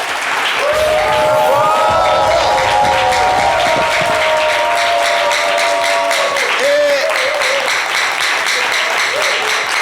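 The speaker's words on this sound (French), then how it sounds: "On va applaudir Jojo s'il vous plaît." Sustained, loud audience applause fills a live Ivorian talk show studio throughout, dense and steady, with tonal voices or music ringing over the clapping.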